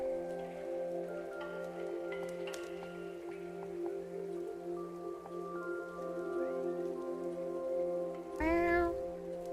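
A cat meows several times over a steady rhythmic background hum and light patter like rain, ending with one louder, drawn-out meow close by near the end.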